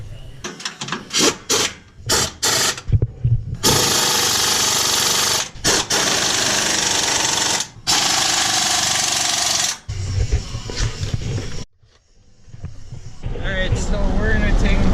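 Tightening a gearbox on harvest equipment with a power impact tool: loud, close bursts of rattling hammering, several short pulls then long sustained runs, broken by brief pauses.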